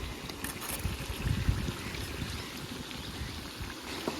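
Water is poured into a spiced potato curry, a low, steady rushing trickle running for a few seconds at a soft to moderate level with no voices.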